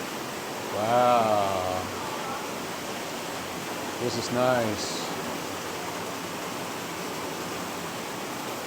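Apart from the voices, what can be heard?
water running in a special shower on a cruise ship spa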